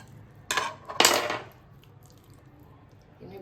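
Knife or spoon cutting through a steamed jackfruit and sago kozhukattai dumpling, heard as two sharp clinking scrapes against a plate close by, then near silence.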